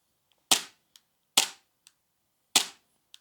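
Three sharp airsoft shots from a Tokyo Marui P320 pistol, each a crisp loud crack with a short decaying tail and a faint click after, spaced roughly a second apart.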